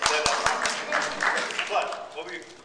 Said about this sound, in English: What were you clapping for?